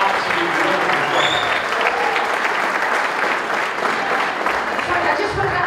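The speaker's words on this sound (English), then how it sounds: "big round of applause for Chris" An audience in a room gives a big round of applause, dense and sustained clapping throughout, loud and close, with some crowd noise mixed in.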